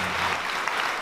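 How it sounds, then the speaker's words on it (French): Brief applause for visitors fills a church during a Sunday service, a dense, even patter of many hands clapping together at moderate loudness. "On nous applaudit les visiteurs."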